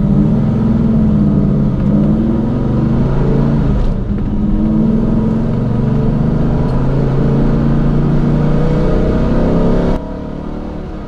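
A 1986 Ford Merkur Sierra RS500 race car roars steadily on a road-racing track, its loud mid-range engine drone holding near-constant revs close by, then dropping abruptly in level near the end.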